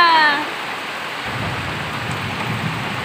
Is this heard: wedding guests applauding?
no